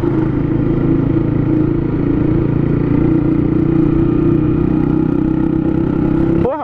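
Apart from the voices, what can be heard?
motorcycle engine with open exhaust pipe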